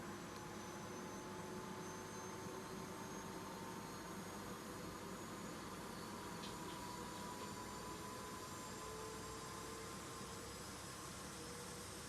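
An Airbus A330-300 engine spooling up in a flight simulator, a faint steady whine and broadband roar heard from outside the aircraft, rising slightly, with no talk.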